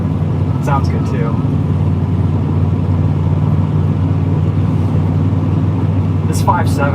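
A Dodge Charger's 5.7-liter V8 drones steadily at a low pitch while cruising on a Michigan road, a continuous engine hum with road noise throughout, with a few brief voice fragments near the start and end.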